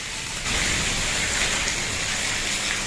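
Heavy rain pours down steadily at a home where water is pooling, a dense continuous hiss that swells louder after a short quieter opening and stays constant, with no voices.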